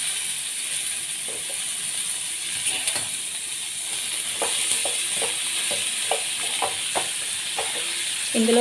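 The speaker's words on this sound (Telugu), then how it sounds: "ఆనియన్స్, మిర్చి, కరివేపాకు, కొత్తిమీర అన్నీ వేసేసి ఫ్రై చేస్తున్నాను" Onions, green chillies, curry leaves and coriander fry in a pan with a steady sizzling hiss, broken by repeated scraping and stirring clicks of a spatula at close range.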